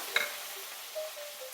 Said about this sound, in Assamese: এতিয়া মই এইখিনি ভাজি ল'ম।